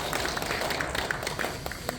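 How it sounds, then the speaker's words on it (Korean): A church congregation at a Sunday service applauding volunteers, a couple of seconds of steady, scattered clapping from many hands in a roomy hall, moderately loud with a faint voice underneath. "우리 수고하신 분 위해서 한번 박수로"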